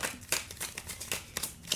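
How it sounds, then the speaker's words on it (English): Tarot cards being shuffled by hand, a quick run of crisp riffling and slapping bursts repeating every fraction of a second, close and fairly loud with no talking. "see me shuffling"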